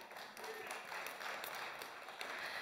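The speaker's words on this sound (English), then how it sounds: "Y'all are clapping" A church congregation applauds, with soft, dense clapping spread across the room that stays faint and steady for a couple of seconds.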